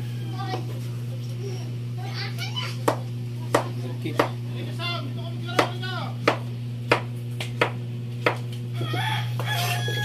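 A knife chops vegetables for a squash and fried-fish meal on a board in a home kitchen, producing about nine sharp, evenly spaced knocks, under people talking, children's voices and a rooster crowing in the background.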